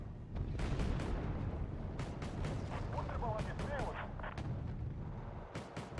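Cannon fire booms repeatedly through a busy card-battle video game, with sharp blasts landing every second or so over a dense wash of game noise and music.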